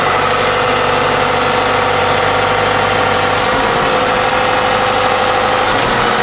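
A 1999 John Deere 6110 tractor engine throttles up, running loud and steady at close range, a constant mechanical drone with a rattling vibration and no voices.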